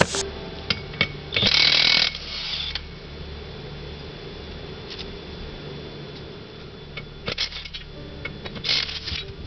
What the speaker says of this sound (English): I use this impact wrench a lot on that project, and I'll try to find a little bit of that video to show you this in action.